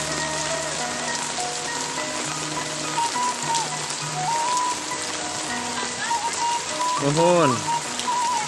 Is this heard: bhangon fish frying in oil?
no